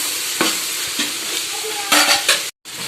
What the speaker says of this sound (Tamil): நல்லா வதக்கின அப்புறம் தக்காளி சேர்த்திக்கலாம் இதையும் நல்லா வதக்கிக்கலாம்